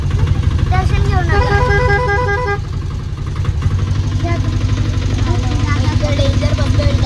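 An auto-rickshaw rattles along through traffic, its small engine chugging steadily under repeated loud honking from nearby vehicles, with voices talking over the ride.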